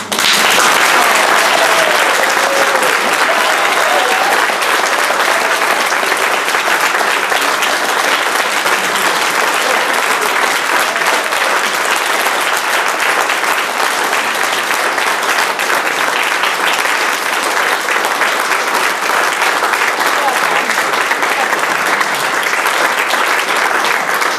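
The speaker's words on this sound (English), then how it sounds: "a big round of applause" Sustained, dense applause from a gathered audience at a golden wedding anniversary celebration for fifty years of marriage, steady and loud throughout the whole stretch with no talk over it.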